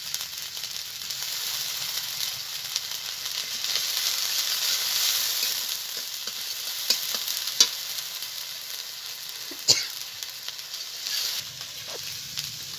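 Chili paste, spices and raw mango frying and being stirred in a pan: a continuous bright sizzle with occasional sharp spatula scrapes and taps, close and fairly loud, with no talking.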